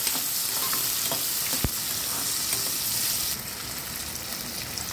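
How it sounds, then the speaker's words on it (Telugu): Onion pieces sizzle in hot oil for a cauliflower and chana dal dish, a continuous near crackle broken by soft scraping stirs and one sharp clack of the spoon against the pan, the hiss easing slightly near the end. "తర్వాత ఉల్లిపాయ ముక్కలు వేసి బాగా ప్రవణించే వరకు వేయించుకోవాలి. మాడకుండా అటు ఇటు కలుపుతూ ఉండాలి."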